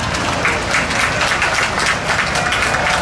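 Steady audience applause fills a youth sheep breeding show arena, a dense sustained wash of clapping held at even loudness for a few seconds with no break.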